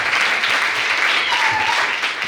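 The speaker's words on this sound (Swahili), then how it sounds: "Makofi na vigelegele." Church crowd applauding an archbishop at an honour ceremony, dense continuous clapping with a thin high ululating trill rising briefly in the middle, steady and fairly loud throughout.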